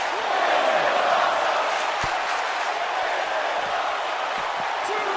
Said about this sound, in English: And this crowd is fired up, ladies and gentlemen.